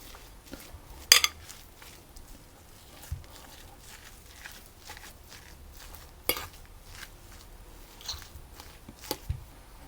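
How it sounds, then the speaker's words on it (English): Fork mashing corned beef into cooked potato in a bowl, scattered soft scrapes and squelches broken by a few sharp clinks of metal against the dish, close up with no talking. "mash this with a fork until I've got that meat broken down and mixed thoroughly into the potato"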